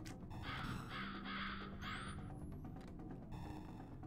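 Crows caw repeatedly in Shalnor Legends, a run of harsh rasping calls over a dense, steady game ambience, with a bright whistling sweep in the middle.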